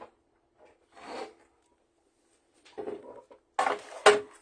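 A paper trimmer slides along the notched edge of a handmade Christmas card, giving a few short scraping rasps separated by quiet gaps, louder toward the end.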